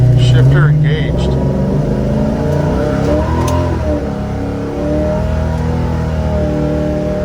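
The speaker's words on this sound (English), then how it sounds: "That's a traction limited launch there here in Mexico." A 1969 Chevelle launches hard from a stoplight in Mexico, its engine revving up in a loud, rising roar close by, with some voices mixed in.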